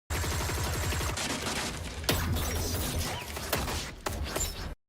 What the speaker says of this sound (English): Why do those guns sound so cool when they're shot?